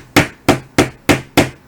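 A hammer taps a 3D printed part onto a 608 bearing in five sharp, evenly spaced knocks, close and loud with no talking.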